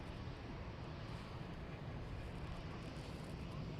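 Airbus A320-200, a 21-year-old airliner arriving from Prague, touching down at Dublin Airport, heard as a steady, broad, distant roar of engines and rushing air with faint wind noise, no voices.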